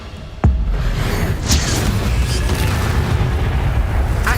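A fiery Incendio spell blast in Hogwarts Legacy sets off one sharp, loud boom, then a dense roaring rumble that sustains for several seconds.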